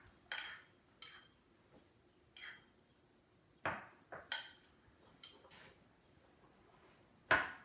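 Spoon clinking against a dish while salmon marinade is spooned over the fish, several sharp scattered taps and scrapes with quiet pauses between, close and fairly soft.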